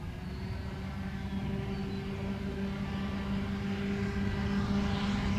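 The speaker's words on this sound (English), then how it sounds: "This is his solo flight, first takeoff in his brand new REVOLT." A brand new REVOLT light aircraft takes off on a solo flight at Zephyr Hills Airport, its engine holding a steady, droning hum from a moderate distance that swells slightly toward the end, with no talking.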